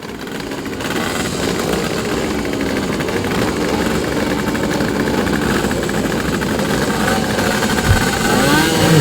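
Racing motorcycles rev their engines together at the start of a race, a loud, continuous, layered snarl of engines holding high revs for the whole stretch.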